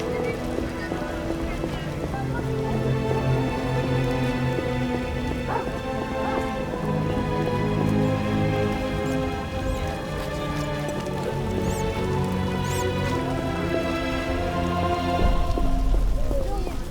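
Steady rainfall in The Witcher, a continuous hiss of rain on surfaces beneath a droning musical score, with a horse's hooves clip-clopping intermittently, moderately loud and constant.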